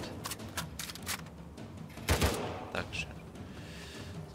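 A few sharp gunshots from the video game Uncharted 4: A Thief's End crack out against a busy background in a cave, with a louder pair of blasts near the middle.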